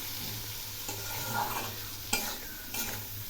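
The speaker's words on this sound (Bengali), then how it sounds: "এই আলুগুলো এখন একটু ভেজে নেব।" Potatoes fry and get stirred in a pan, with a steady soft sizzle and a few scraping spoon strokes. No voice is heard over the quiet frying.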